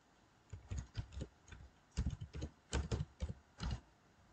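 Keys clicking on a computer keyboard while a sudo apt install command for OpenVPN is entered on Kali Linux, coming in quick irregular bursts of taps with short pauses, close and fairly quiet.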